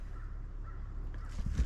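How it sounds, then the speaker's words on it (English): Birds call faintly outdoors on a sunny spring day on a cattle ranch, a few distant cawing notes over a low, steady background rumble. "birds are chirping"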